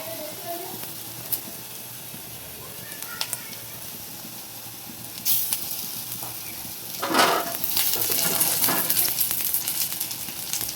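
Food frying with onion in a home kitchen, a soft crackling sizzle that swells louder in the second half, with occasional stirring clicks and some talking in the background.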